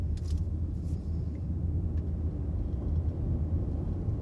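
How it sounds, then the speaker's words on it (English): A hybrid car's gas engine starts and hums low and steady, a continuous muffled rumble from inside the Hyundai Ioniq Plug-in Hybrid, with a few faint clicks early on. "And there goes the gas engine."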